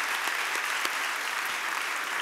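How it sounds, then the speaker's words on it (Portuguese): Steady audience applause fills a gathering at a religious event, a dense wash of many hands clapping together with no voices standing out over it. "Pode aplaudir as nossas amigas que estão vindo"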